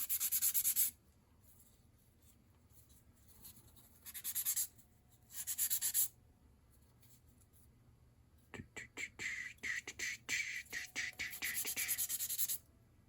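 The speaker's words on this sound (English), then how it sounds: "Now we just need to do some quick little sanding here." Short bursts of hand sanding on a 1/32-scale model race track gantry, rasping strokes that come in separate passes, then a quicker run of rapid back-and-forth scrubs, close and fairly quiet.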